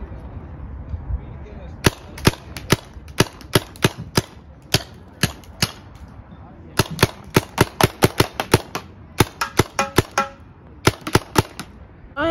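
Paintball gun shots in a park, dozens of sharp snapping pops fired in quick irregular bursts, some clustered closely together, close and loud over quiet background noise.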